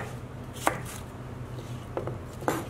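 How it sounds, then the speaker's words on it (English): Knife slicing through green capsicum on a cutting board for a chunky salsa, with three crisp cuts spaced apart over a low steady background hum, close and fairly quiet. "You want to take out the stems, slice them through the middle again"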